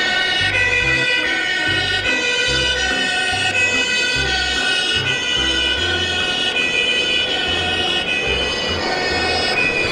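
A loud, steady toy fire truck siren wails continuously, overlapping tones cycling without pause, close and dominant with no voices.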